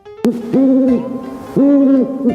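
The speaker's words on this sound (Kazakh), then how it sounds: "Үкі." Two long, loud owl hoots with a clear tonal call, each held for about half a second to a second, heard alone against near silence.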